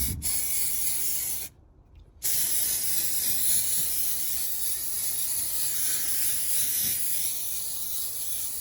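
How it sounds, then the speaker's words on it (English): Hammerite paint sprayed from a can onto rust on a Ford Transit campervan, a steady close hiss that stops briefly and then resumes for several seconds, no talk. "I've got some Hammerite and I'm going to spray the rust"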